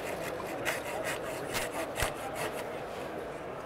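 A hand saw cuts through a tree limb during span rigging, steady rhythmic rasping strokes about three per second, close and clear with a faint voice at the edge.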